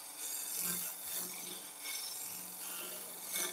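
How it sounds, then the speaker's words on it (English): A skew chisel cuts into wood up to a flat face, giving a steady rasping, scraping sound with rhythmic swells and dips, close and fairly loud, and no speech. "So we're going to use the skew just to go right up to that flat face."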